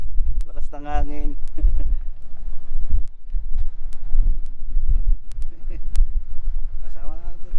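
Strong wind buffets the microphone with a low, gusting rumble on a boat trip in Bohol, rising and falling under people chatting and exclaiming close by.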